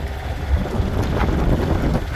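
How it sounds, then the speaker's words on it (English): A sailboat motor sailing up the Intracoastal Waterway with a little jib out in strong wind: steady loud rushing wind buffeting the microphone over a low engine drone, with water noise and no voices. "We're just heading up the ICW with a little bit of jib out, motor sailing"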